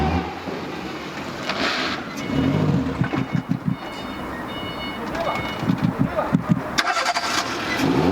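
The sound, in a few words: Renault Clio car engine starting and running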